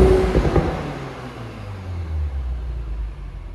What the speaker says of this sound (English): Now we'll stick into dynamic, and you can hear the valves open there as well.